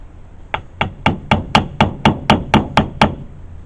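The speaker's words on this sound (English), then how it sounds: "Just kind of tap it into place with a small hammer or something." A small hammer taps a transmission oil seal into place on a 1948 Hydramatic, ten sharp, evenly spaced metallic knocks ringing out close and alone.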